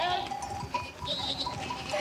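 A flock of sheep bleat in overlapping calls, some near and some farther off, with a cowbell-like clink and a voice talking among them.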